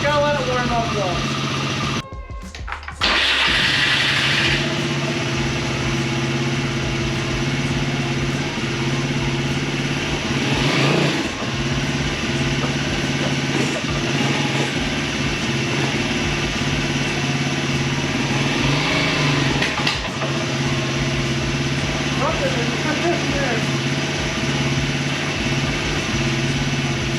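The 500cc engine of a finished Chevy pickup Power Wheels truck starts after a brief cutout and settles into a steady, loud idle that runs throughout, with someone talking over it now and then.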